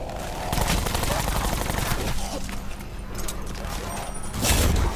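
Rapid turret gunfire in Black Ops 4 Zombies, a dense sustained burst of shots with game noise, louder again near the end, over a faint voice.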